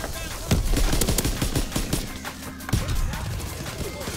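Rapid gunfire from an M1A1 carbine in the World War II shooter Call of Duty WW2, with sharp close shots in quick bursts mixed with other battle noise and someone talking over it.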